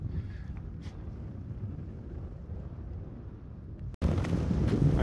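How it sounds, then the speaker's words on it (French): Steady wind buffets the microphone in a low, continuous rumble beside a snowy mountain lake bivouac spot in Belledonne, briefly cutting out before returning a bit louder and brighter. "mais il y a beaucoup de vent aussi"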